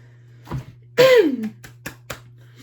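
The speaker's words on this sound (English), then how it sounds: "I'm clearing my throat constantly" A person clears their throat close to the microphone with one loud rasping rumble and a few shorter throaty catches after it, over a steady low hum.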